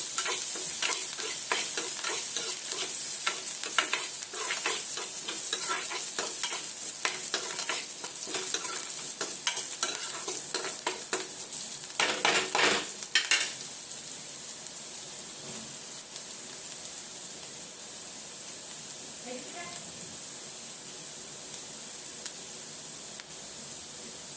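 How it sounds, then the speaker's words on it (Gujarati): Onions frying in a pan for sambhar give a steady, dense sizzle throughout, with a few louder scraping stirs partway through. No one talks. "જ્યાં સુધી ડુંગળી શેકાય, ડુંગળી તો તરત શેકાય જ જાય 2 મિનિટમાં તો."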